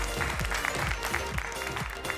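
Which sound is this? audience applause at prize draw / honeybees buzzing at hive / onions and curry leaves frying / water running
audience applause at prize draw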